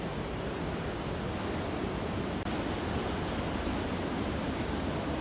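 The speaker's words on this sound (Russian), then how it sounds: "А выйдем мы на океан. И на бушующий океан." Stormy ocean surf pounds during a hurricane in Vietnam, a dense, unbroken roar of crashing waves and wind, loud and close throughout with no pauses.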